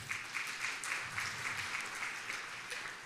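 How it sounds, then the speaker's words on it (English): Congregants at a church service clap steadily, a continuous even wash of applause filling the room with no break. "You can clap for that one."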